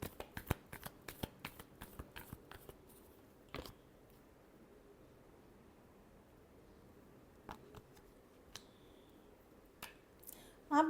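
Tarot cards being shuffled: a rapid run of crisp riffling snaps at the start, then a quiet gap, a few scattered flicks and a final burst, all close and soft.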